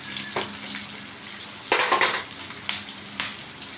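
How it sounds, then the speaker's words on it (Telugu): A tempering for amaranth leaf dal frying in a pan, a soft continuous sizzle broken by a few brief bursts of stirring and pan clatter. "ఇలా మంచిగా ఫ్రై అయ్యేదాకా చూసారు కదా ఫ్రెండ్స్. ఇప్పుడు బాగా వేగాక"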